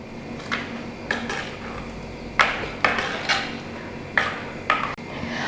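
A spoon clinks and scrapes against a pot while fried tempering is stirred into Kaaya Moru curry. The knocks come in irregular bursts of several sharp taps over a quiet background, with no talking.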